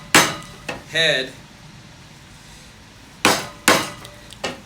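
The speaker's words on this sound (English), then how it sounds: "I probably use this hammer more than any other" A few loud, sharp knocks of a wooden mallet with an ash head and oak handle, one early pair and a quick cluster of three later, with a short spoken word in between.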